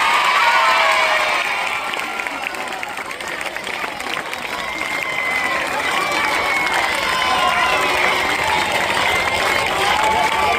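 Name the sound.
audience applauding and cheering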